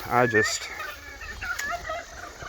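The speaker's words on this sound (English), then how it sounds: "I'll show you all the turkeys." Free-range turkeys gobble in a short burst near a pond on a farm, with a rapid rattling call at the start followed by softer fowl calls and a voice speaking.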